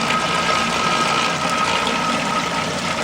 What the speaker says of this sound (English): That's how much water comes flying through this thing whenever the foundation gets full.